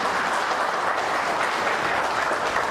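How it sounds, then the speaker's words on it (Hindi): A conference audience at a dealer and distributor award function gives loud, sustained applause for Mr. Lalit, a thick wash of clapping that cuts off abruptly at the end. "मैं चाहती हूँ मिस्टर ललित को कुछ दो एक बार जोरदार तालियां देना चाहती हूँ।"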